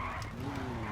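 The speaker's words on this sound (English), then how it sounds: "It's just spinning the tires on the way up with this thing" In a racing video game, car tires spin and skid with a steady, loud screech over a constant engine drone, sustained without a break for the whole moment.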